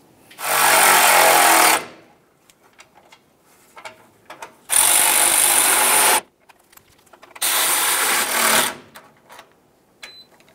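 Three bursts of a power ratchet or impact driver running 8mm bolts into a fog light mount on a 1998-2002 Lincoln Navigator, each a loud buzzing whir lasting about a second or two, separated by quiet handling clicks.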